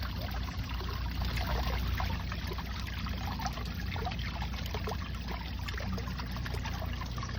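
Water pours steadily into a garden goldfish pond in a continuous close trickling splash that runs unbroken throughout, with no talking.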